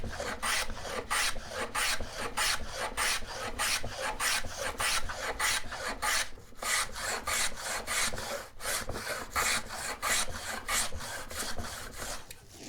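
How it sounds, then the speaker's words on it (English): Steady rhythmic rasping strokes of a Fales patent hand plane cutting a groove in wood, about two per second, close and loud, continuing without pause and with no talking. "correct plane, and we will use that to cut our groove."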